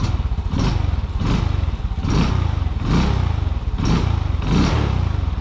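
A Kanuni Seyhan Cup 100 motorcycle idles up close with a steady, even engine beat pulsing in a regular rhythm, loud and alone without talk.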